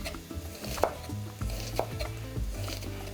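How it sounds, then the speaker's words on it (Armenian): An onion is sliced into thin feather-like strips with a knife on a board: a few distinct knife knocks stand out over a steady background hum in the kitchen. "Կկտրատեմ սոխը,"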